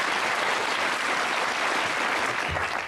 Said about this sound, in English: they all applauded